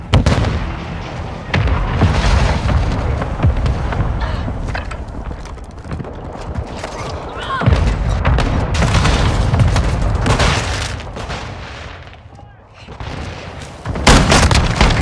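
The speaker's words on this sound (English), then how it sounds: "Hostile mortar strike in the area." Mortar strike explosions in Modern Warfare 2, a heavy rumbling barrage of booms and blasts rolling almost continuously, with gunfire mixed in and a brief lull before more loud impacts.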